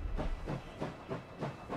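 Steam train in a war video game set during the Czechoslovak Legion's fight against Lenin, giving off rhythmic bursts of loud hissing steam, about five pulses in under two seconds, with no talk over it.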